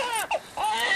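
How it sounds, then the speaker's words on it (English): A recorded infant's cry wails from outdoor speakers in a forest camp, played as bait for a Sasquatch search; brief, strained sobbing bursts at moderate volume. "Pardon the loud baby sounds."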